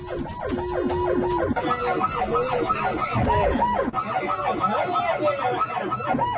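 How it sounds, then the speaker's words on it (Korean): A loud private ambulance siren wails and yelps continuously from close by inside the moving vehicle, with road noise and a muffled voice underneath. "취재진이 탑승하자 사이렌을 켜고 도로 위를 내달립니다."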